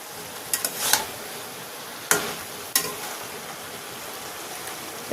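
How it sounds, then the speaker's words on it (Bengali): Water lily (shapla) chorchori cooking down in a pan, giving a soft continuous simmering hiss broken by a few sharp scrapes and knocks as a spoon stirs it, with no talking. "এবারে আমি একটু নেড়ে দিচ্ছি"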